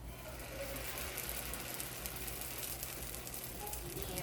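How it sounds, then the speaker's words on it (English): Steady, even sizzling crackle as pizza goes into a hot cast iron pan, constant and fairly close, with no talking. "You'll be able to hear it sizzle when I put it on."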